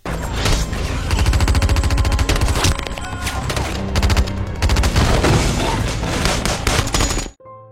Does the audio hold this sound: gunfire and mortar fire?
yes